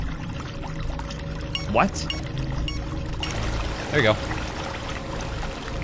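Water pours from a pipe in a spooky video game puzzle, a steady gushing rush running through the whole clip beneath two brief voices speaking.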